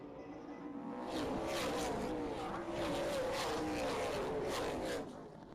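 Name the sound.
race cars racing after green flag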